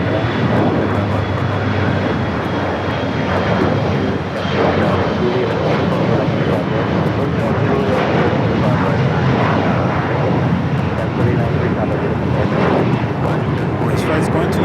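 An airliner bound for San Francisco at Los Angeles LAX airport gives a loud, continuous jet roar, with wind buffeting and voices talking over it throughout.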